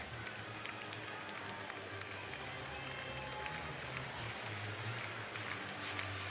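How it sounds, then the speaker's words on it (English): Baseball crowd at Wrigley Field in a tied late-inning Pirates–Cubs game, a dense, steady roar of voices with scattered clapping, fairly faint and distant. "The crowd on its feet here at Wrigley Field"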